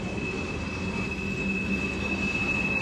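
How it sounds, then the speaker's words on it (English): A long mixed manifest freight train of over 800 axles, with mid-train distributed power units and a caboose, rolls past close by in a steady loud rumble of wheels and railcars, with faint wheel squeal and no voices. "Long train. He's over 800 axles."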